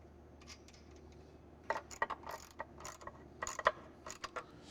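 A ratchet fastens bolts onto the flange of a SlimFit 550/750 blower: faint, quick metallic clicks come in short irregular bursts over a low steady hum, close by and with no talk.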